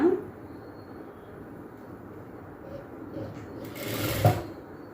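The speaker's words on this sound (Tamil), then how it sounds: "இப்போது இங்கேருந்து நம்ம ஸ்டார்ட் பண்ணலாம் தையல் கூட" A sewing machine stitching a princess-cut kurti gives a soft, steady mechanical whir, fairly quiet and close, swelling toward the end, with a brief clunk at the start.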